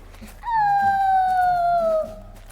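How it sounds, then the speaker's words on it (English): A single drawn-out howl, rising then slowly sliding down in pitch for about a second and a half, close and clear over a quiet background. "Did I hear howling?"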